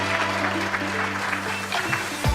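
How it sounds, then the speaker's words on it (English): Warm audience applause at a technology summit, moderately loud and continuous beneath a steady hum, with a low thump closing it off. "can we have another warm round of applause?"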